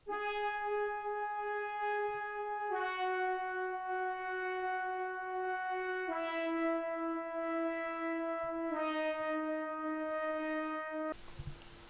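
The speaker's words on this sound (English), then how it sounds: "the name of this preset is called Formula Beam Brass Pad" A vintage 80s-style synth brass pad preset, Formula Beam Brass Pad from Cradle the Prince, holds sustained tones that change pitch every few seconds, a soft and steady sound that ends in a short burst of noise.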